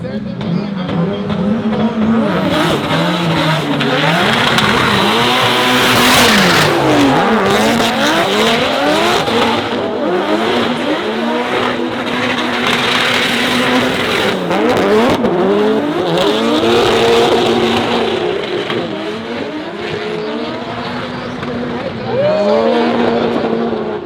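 Drift cars battling at an invitational drift event, engines revving and bouncing through repeated gear-limited sweeps with tire squeal and skidding, loud and close, with commentators talking over the cars throughout.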